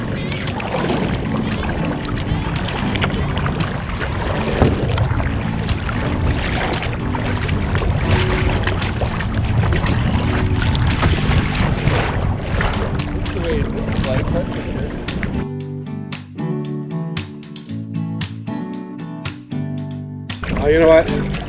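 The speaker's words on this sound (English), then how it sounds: "Out for paddle with Mr. Gord today" Kayak paddling on the Grand River on a calm day, with repeated soft paddle strokes and water splashes over steady wind noise, then a quieter stretch of lapping water near the end.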